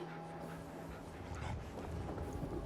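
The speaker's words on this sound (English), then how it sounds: "A couple of guard dogs running around." Guard dogs in Fallout 4 pant quietly in a steady, rapid rhythm, faint and close, over a low background hum.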